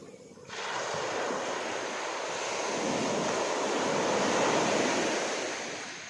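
Large sea waves break on a beach at Phuket, a loud, continuous roaring wash of surf that swells steadily after a brief quieter start.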